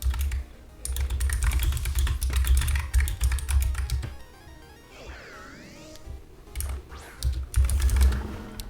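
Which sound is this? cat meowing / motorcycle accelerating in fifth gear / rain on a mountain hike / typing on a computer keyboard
typing on a computer keyboard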